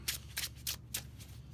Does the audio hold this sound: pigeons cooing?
no